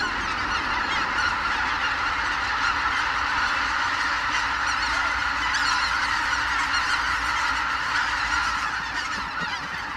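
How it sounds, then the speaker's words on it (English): A large flock of white-fronted geese honks continuously in a dense, overlapping chorus, loud and sustained throughout with no pauses. "White-fronted geese,"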